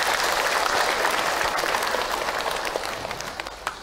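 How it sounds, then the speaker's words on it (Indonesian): An audience at an Islamic religious talk breaks into dense, steady applause of many clapping hands that holds for a few seconds, then thins slightly toward the end. No voices rise above it. "Tepuk tangan untuk kita semua."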